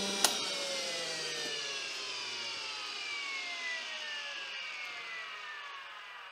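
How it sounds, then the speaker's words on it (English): The flywheel of an old DEWALT cordless framing nail gun spins up after a sharp click, a rising whine that slowly glides down as it runs on steadily, fairly quiet and close, with no talk. "You'll hear the flywheel spin up"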